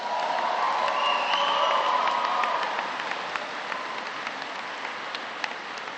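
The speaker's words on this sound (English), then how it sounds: "Let's give the USO a big round of applause." An audience applauds the USO at a celebration evening, a loud sustained wash of clapping with a few whoops that gradually tapers off.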